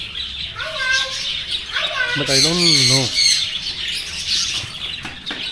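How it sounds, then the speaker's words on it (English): Java sparrow finches chirp in short, bright, rising and falling calls at close range, in bursts with brief gaps, while people talk nearby. "You can see here, Java finch."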